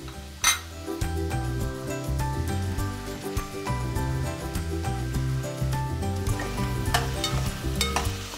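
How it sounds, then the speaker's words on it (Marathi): Pineapple pulao mixture of rice, fried onion and chilli is stirred in a hot pan, a steady sizzle broken by repeated scrapes and clinks of a spoon against metal, close and continuous with no talking. "व्यवस्थित हलवून घ्यायचं आहे"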